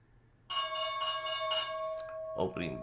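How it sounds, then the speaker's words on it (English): The stock exchange opening bell rings for the Dow's market open: a bright, sustained ringing in repeated pulses, followed by a brief sound at the end. "Opening bell, yeah, down 190, 180, down 200."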